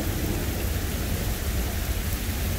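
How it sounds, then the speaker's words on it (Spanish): Thick, unbroken downpour from an Iowa thunderstorm, with low thunder rumbling under the hiss of heavy rain; loud, continuous and near, no talking. "Gracias a Dios, una buena tormenta."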